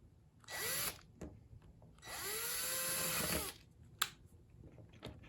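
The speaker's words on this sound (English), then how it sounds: "I'm going to run the screws that mate with these holes down in and back" A ratchet drives screws into and back out of holes in a Welte piano action, two sustained whirring bursts with a short buzz and a sharp click between, fairly quiet against a still room.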